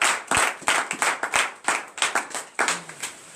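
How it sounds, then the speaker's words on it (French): A congregation at a morning prayer service in Benin claps in sharp, rhythmic, close bursts, about a dozen distinct claps in quick succession. "Donnez l'acclamation à Jésus."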